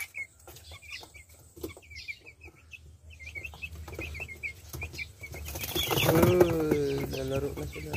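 Eight-day-old chicks in a large cage give repeated high, thin peeps at close range, with livelier chirping and a louder voice-like sound building toward the end.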